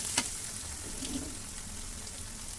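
Ginger, cumin and green chili hitting hot oil in a pan for a khichuri spiced with chui jhal, a sharp clink followed by a low steady sizzle close by.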